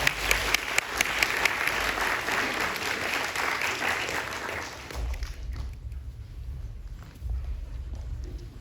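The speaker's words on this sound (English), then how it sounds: "So let's all give them a round of applause." An audience applauds, a loud, dense burst of clapping that carries on for several seconds before thinning and fading.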